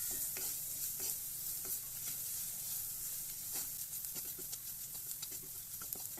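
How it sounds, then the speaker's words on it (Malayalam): Turmeric, chili and coriander powder masala being sautéed in a pan, giving a steady soft sizzle with scraping stirs and light patter throughout, close and quiet, no talk. "അപ്പോൾ ഈ മസാലപ്പൊടിയുടെയൊക്കെ പച്ചമണം മാറുന്നവരെ നന്നായിട്ടൊന്ന് വഴറ്റിയെടുക്കാം"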